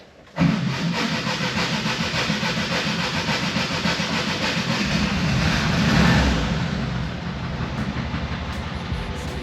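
A car engine cranks and catches after its battery has been reconnected, then settles into a loud, steady idle that swells briefly before easing off, with no talk over it.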